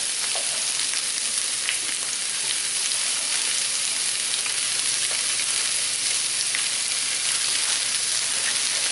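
Green vegetables fry in a hot pan, giving a steady, dense sizzle with faint crackles that continues evenly and fairly loud throughout, with no voices.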